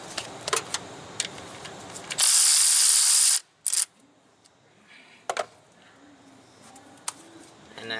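A ratchet spins a 1/4 inch drive socket from a 10mm socket set. One fast burst of buzzing clicks lasts about a second, followed by a single short click in an otherwise quiet room.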